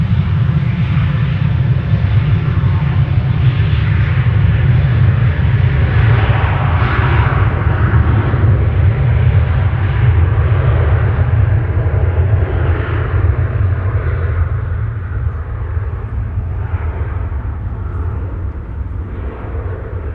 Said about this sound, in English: This is KLM flight 1955 to Athens.